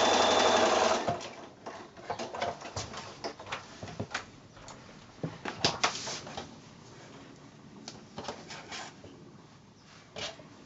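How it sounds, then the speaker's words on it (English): A sewing machine stitches a quilt house block along a drawn line, running in quick rhythmic bursts with short pauses between runs, close and fairly quiet, with no talking. "So again, sewing right on that line that we've drawn."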